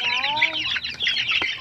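Young chicks peep in a continuous chorus of high, thin calls close by, with a few lower clucks from a hen mixed in under the busy chirping.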